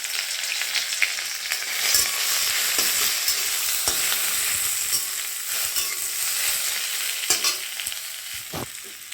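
Ash gourd leaves fry in hot oil with green chili and garlic, giving a continuous crackling sizzle, with scattered scrapes and taps from stirring close by.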